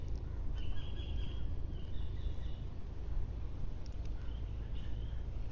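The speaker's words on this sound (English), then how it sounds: "A lot of lovely bird sounds in the background." Birds chirp and sing outdoors at Saphan Hin in Phuket, Thailand, as faint short calls scattered over steady background noise.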